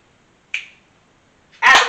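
A single crisp finger snap during a couch yoga session, sharp and close, followed by a short pause before a voice begins.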